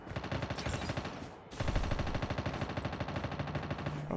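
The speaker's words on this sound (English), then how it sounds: "Where is he shooting from?" Sustained rapid automatic gunfire from another player in a shooter game, dense and continuous, moderately loud, with one brief dip in the middle and no talk.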